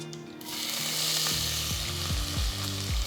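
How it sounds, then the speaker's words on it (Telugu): Finely chopped medium onion dropped into hot oil with mustard seeds for kodo millet upma, a sudden loud sizzle that holds steady, with repeated scraping strokes of a spatula against the pan. "ఆవాల సౌండ్ వినిపిస్తుంది కదా ఇప్పుడు నేను దీంట్లో ఒక మీడియం సైజ్ ఉల్లిపాయ బాగా సన్నగా తరిగి వేస్తున్నా"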